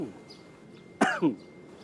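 A single sharp cough from choking followed by a short throat-clearing rasp, close and abrupt, in an otherwise quiet room.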